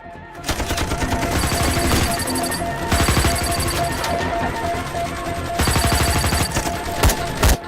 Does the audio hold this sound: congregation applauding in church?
no